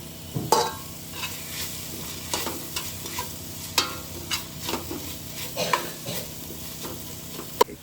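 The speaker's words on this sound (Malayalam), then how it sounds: "ലോ ഫ്ലെയിമിലിട്ട് വഴറ്റുക" Onions browning in a pan over a low flame for a Kerala-style beef roast give a soft, steady sizzle, broken by intermittent spatula scrapes and taps of stirring, close and moderately quiet, without speech.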